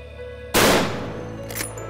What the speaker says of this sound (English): it's important to test fire our rifles to ensure they're still on zero